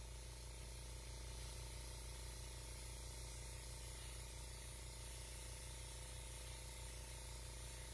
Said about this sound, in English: The further away from the paper that I hold the compressor nozzle, the finer the spray will be, creating a lighter mist.